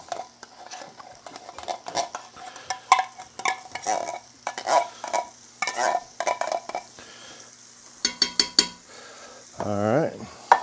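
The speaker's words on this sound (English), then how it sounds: "a can of cream of mushroom soup, and I need a spoon to get that out of." A spoon scrapes and clinks inside a can while scooping out cream of mushroom soup, in a quick series of close metallic taps and scrapes, with a short wet plop near the end.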